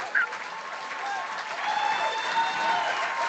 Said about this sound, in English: How about applause?